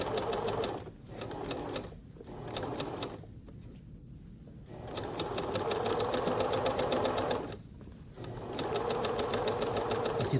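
Close, steady whirring of a sewing machine stitching the sides of a skirt, running in long stretches broken by short pauses, loud and alone with no talk.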